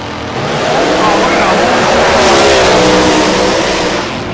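Drag racing car making its qualifying run at a drag strip, a loud, sustained engine roar that swells and holds steady across the run before easing off, with crowd and track noise underneath.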